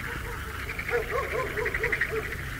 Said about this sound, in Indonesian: Kenapa anjing itu menggonggong dan melolong terus?